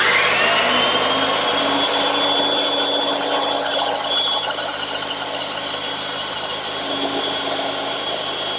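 A power saw cuts freehand through teak, without a rip fence, for an English garden bench. A loud, steady high whine rides over dense broadband cutting noise for the whole stretch, easing slightly partway through.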